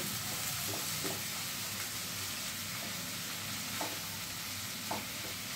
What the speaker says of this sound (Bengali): পেঁয়াজ রসুনটা একটু ভাজা হোক